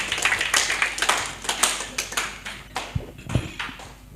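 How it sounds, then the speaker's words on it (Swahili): A congregation at a Sunday church service claps together for a man named Patrick, filling the room with rapid, uneven bursts of hand claps that swell and fade over several seconds. "Tupigie Patrick makofi"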